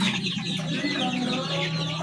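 An injured backyard chicken that is struggling to stand clucks softly and repeatedly, close by, with faint bird calls layered through a steady background.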